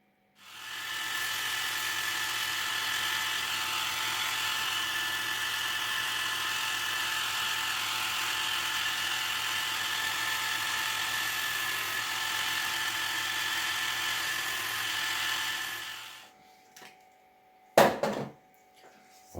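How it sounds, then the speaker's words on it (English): A steady, high, whirring noise of 240-grit sanding on wooden edges runs continuously for about fifteen seconds, then stops, followed by a few quiet handling knocks. "I'm just sanding off the edges with some 240 grit"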